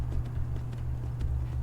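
Horse hooves clip-clop steadily as a rider climbs a mountain path toward a bandit camp in Skyrim, the regular footfalls close and even over a constant low rumble.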